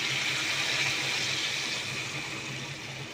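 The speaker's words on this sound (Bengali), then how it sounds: "এখন আমি পরিমাণ মতো ঝোলটা দিয়ে দেব।" Water poured into a pan of oil-fried spices for a fish curry, a steady close hiss and gush with no pauses, fading a little toward the end.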